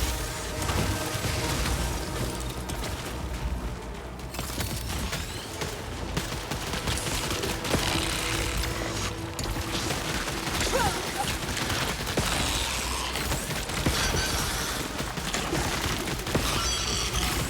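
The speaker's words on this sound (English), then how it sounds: "The thing with the pistol is you can fire it faster if you hold it down" Rapid pistol fire in the sci-fi shooter Returnal, dense continuous volleys of shots amid booming effects and game noise, loud and sustained with no talk over it.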